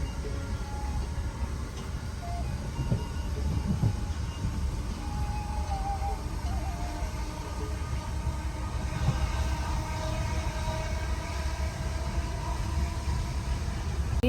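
Train pulling into a station near Margate, a steady broad rumble and rolling rail noise throughout, moderately loud and continuous, with faint voices in the background.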